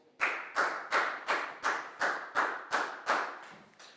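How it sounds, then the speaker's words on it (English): Nine evenly spaced claps or sharp slaps ring out in a steady rhythm, close and moderately loud, each fading quickly. "High five and a big round of applause for Chu, please, guys."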